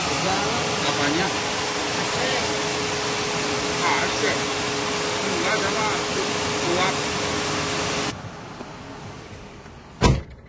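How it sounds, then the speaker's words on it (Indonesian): Radiator fan of a Suzuki Karimun running steadily while the AC compressor is engaged, a broad continuous whir heard close up for about eight seconds, then quieter, ending with a brief sharp knock. "Jadi selama kompresor AC-nya ini hidup, maka selama itulah kipas ini menyala"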